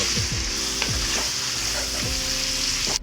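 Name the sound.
ingredients sauteing and sizzling in oil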